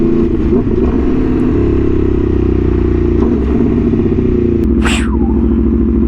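Aprilia Tuono V4 motorcycle with an aftermarket exhaust and no dB killer fitted, idling loud and close with a deep, crackling burble and a couple of short blips of revving.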